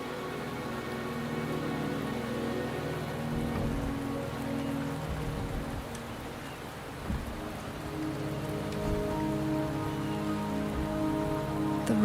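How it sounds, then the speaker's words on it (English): Heavy rain pours onto surfaces in a Wuthering Waves game cutscene, a dense steady patter with low rumbling and a few louder thumps, no speech. "The rain is subsiding, and the sky will soon clear."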